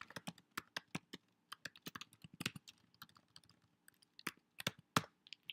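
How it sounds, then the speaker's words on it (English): Someone types CSS code on a computer keyboard, producing quick, irregular clusters of crisp key clicks with brief pauses between bursts, close and fairly quiet against a near-silent background. "I could just type in the CSS code."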